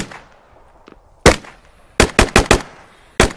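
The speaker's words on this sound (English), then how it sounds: "And I hear a shooting." Gunfire in the military shooter Squad: a loud single crack, then a quick string of four or five sharp shots, a pause and two more, close and alone with no talking.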